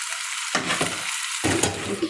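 Potatoes frying in a pan, with a continuous close sizzle and bursts of louder crackle as they are stirred, plus faint utensil clinks and no voices.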